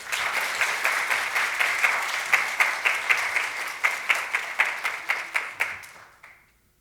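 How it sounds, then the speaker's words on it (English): A conference audience claps together in a strong round of applause, with individual claps clearly audible and steady throughout, before the sound tapers off and stops near the end. "One more round of applause for those very, very inspiring words"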